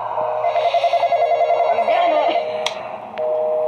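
A telephone rings in the horror video game Intruders, a rapid pulsing electronic trill repeating steadily at moderate loudness before cutting off, with faint game ambience and a sharp click.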